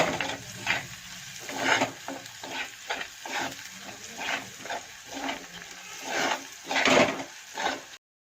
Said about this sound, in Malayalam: അപ്പോൾ അതൊന്ന് എണ്ണയിൽ വഴറ്റിയെടുക്കണം അല്ലേ?